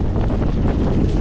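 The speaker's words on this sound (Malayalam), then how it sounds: "The power of wind." Strong wind in the Western Ghats hills near Vagamon buffets the microphone with a loud, continuous roar and rumble, steady and close, with no talk.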